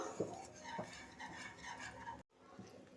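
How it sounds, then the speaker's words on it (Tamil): Spoon scraping and stirring a thick corn flour mixture in a pan, soft repeated scrapes and clinks near the microphone, with a brief silent gap near the end. "மறுபடியும் ஒட்டாமல் நல்லா கிளறி கொடுத்துக்குவோம்"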